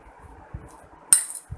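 A spoon mixing ground paste into mango pieces in a dish makes a few soft scraping taps and one sharp metallic clink. The sounds are brief and close, with near silence between them.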